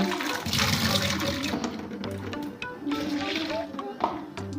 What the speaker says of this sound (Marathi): त्याचं या पद्धतीने पाणी असं साबणीचं काढून घेऊ